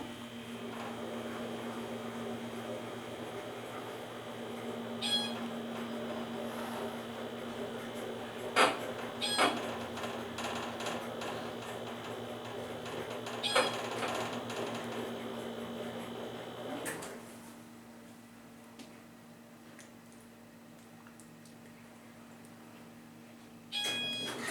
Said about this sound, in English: Here we go, listen to the motor.